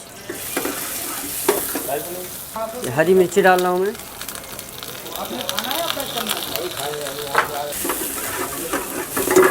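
Onions sizzle and fry steadily in hot oil in a pan for dal tadka, with occasional stirring scrapes, while someone talks over it.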